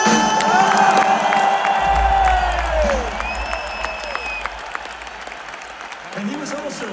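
A large arena crowd at a concert in the Gelredome cheers, screams and applauds loudly for a band introduction. The roar stays dense and sustained throughout, with a deep bass rumble from the stage under it.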